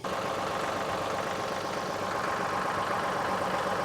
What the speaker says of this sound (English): So I'm going to start the tractor up.